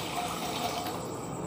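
A vessel of water is poured into a cooking pot for a drumstick-leaf payasam, making a soft, steady splashing fill that is faint and close.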